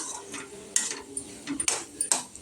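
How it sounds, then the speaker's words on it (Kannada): A spoon stirs and mixes tomato curry in a pot, with several distinct scrapes and clinks against the metal spaced about half a second apart, close and fairly quiet with no talking. "ನೀಟಾಗಿ ಮಿಕ್ಸ್ ಮಾಡ್ಕೊಳ್ಳೋಣ"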